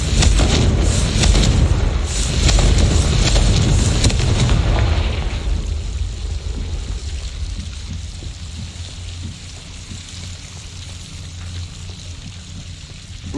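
A Confringo blasting spell goes off in a video game, a loud booming explosion with a roaring rumble for about five seconds, then settling into a low lingering rumble and crackle.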